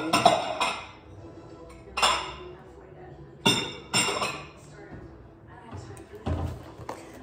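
Dishes and a bowl clinking in a home kitchen, several sharp ceramic and glass knocks spaced a second or so apart, close and clear, with quiet gaps between.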